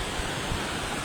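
Steady rushing flow of a river near a rural farm in Marilog, Davao City, a dense continuous broadband wash with low rumbles, moderately loud and close, no voices.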